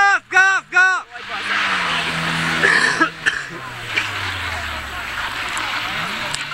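A rally car's engine revs hard at full throttle in a few sharp rising bursts, then roars steadily nearby as the car pulls away, with excited voices shouting over it.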